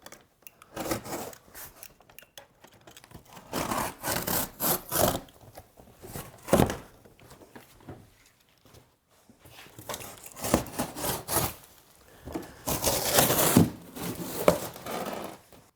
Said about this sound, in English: what I'm going to do here, instead of lifting the machine out, is just cut the box